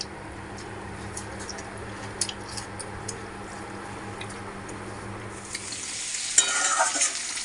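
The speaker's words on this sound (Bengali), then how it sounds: "তো রিয়া এই যে রান্না করছে, আলু পটলের একটু ঝোলঝোলি করবে, ডাল করবে না।" Potatoes and pointed gourd cook in a pan for a light curry, with a utensil scraping and stirring in scattered knocks over a low sizzle. A louder burst of frying hiss rises near the end, and nobody speaks.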